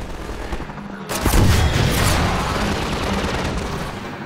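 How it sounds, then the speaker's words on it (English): Video-game gunfire: a loud barrage of shots erupts after a quieter stretch, then settles into a sustained rumble of continuing fire and booming echoes. "Stop shooting me!"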